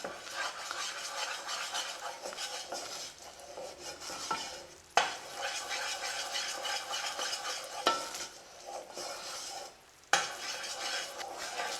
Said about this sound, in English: I'm just going to let this cook for a few minutes. I want that sugar to caramelize a little bit